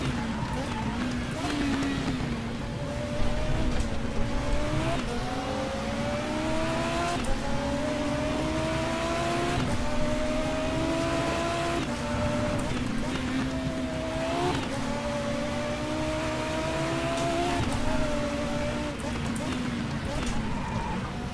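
A touring race car engine from the Race07 game drones and revs continuously through gear changes on the Knutstorp circuit, with someone talking over it throughout.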